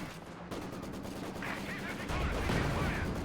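A machine gun team fires in the World War II strategy game Company of Heroes 2, a dense, continuous rattle of battle noise that swells louder over the last second, with no talk.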